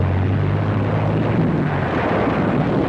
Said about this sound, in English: French aircraft made several strafing runs, adding to the casualties